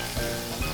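Lamb sizzling in a hot pan with olive oil, a brief close crackle of frying with a couple of soft pops.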